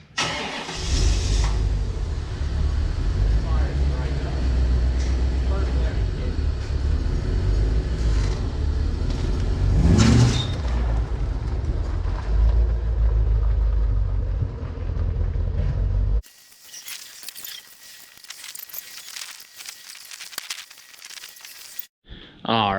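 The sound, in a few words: Corvette C4 car engine as it is moved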